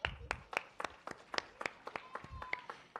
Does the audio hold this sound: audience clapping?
yes